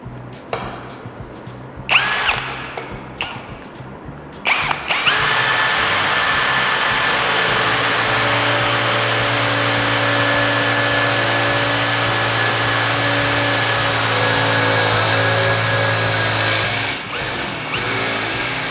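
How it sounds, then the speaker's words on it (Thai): A Pumpkin cordless drill runs at speed setting 3, drilling steadily for about twelve seconds with a loud, sustained whine after a few short trigger bursts, then easing off near the end. "ไปเจาะกันเลยครับ"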